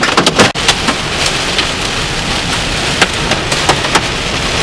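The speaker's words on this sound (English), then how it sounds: "Those are quarter-sized hailstones out there." Large quarter-sized hailstones pound down during a western Illinois storm, a loud, dense roar of hits with sharp individual cracks standing out throughout.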